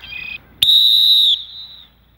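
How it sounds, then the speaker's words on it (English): A short soft whistle note, then a sharp, loud, shrill whistle blast held for under a second before fading into a quieter tail. "Burn a whistle there."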